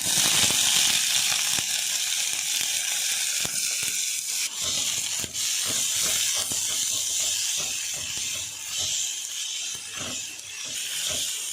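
Sliced onion and green chilli frying in oil for a lady's finger milk curry, a steady bright sizzle and hiss with scattered crackling pops throughout, fairly close and with no talking.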